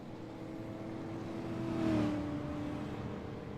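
A super late model race car engine on a track, a low droning roar that swells as the car passes close by near the middle and then fades, heard from a distance with no talk.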